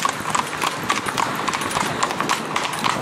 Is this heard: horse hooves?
yes